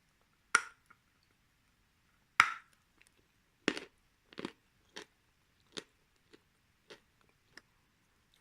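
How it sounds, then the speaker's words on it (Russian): Astana Ideal edible clay being bitten and chewed with a ringing crunch, about a dozen sharp isolated crunches spaced irregularly, close and crisp against near silence. "Также со звонким хрустом жуется."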